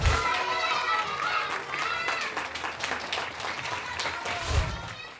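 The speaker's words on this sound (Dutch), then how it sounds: "ik ga voor jullie klappen" Hands clap for children on a Dutch kids' show, a burst of rapid claps that fades under children's chatter and movement, with people talking throughout.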